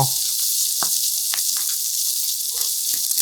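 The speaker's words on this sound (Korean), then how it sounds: "올리브유 1스푼 두르고 달구어지면 베이컨을 넣고 노릇노릇 맛있는 색깔이 날 때까지 볶아주세요" Bacon sizzling in a spoonful of olive oil in a heated pan over medium-low heat, a steady bright hiss with a few soft pops and ticks, close and alone with no voices.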